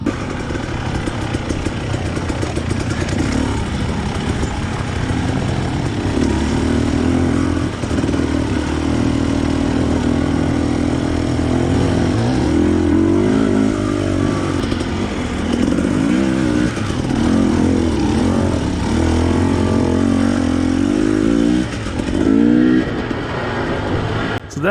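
GasGas 300 EC two-stroke dirt bike engines ride a dug-in, worn rocky trail, loud and continuous throughout, with steady droning and rising revs as the bikes climb over the route.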